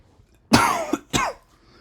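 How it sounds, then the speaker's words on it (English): Two sharp coughs from one person, a loud burst followed by a second shorter one, close and clear in an otherwise quiet room with no talking. "Sorry about the cough"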